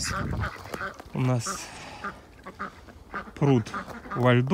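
Ducks quack repeatedly in short nasal bursts, close by, while someone speaks briefly between the calls.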